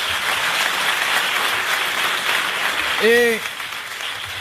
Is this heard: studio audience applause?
yes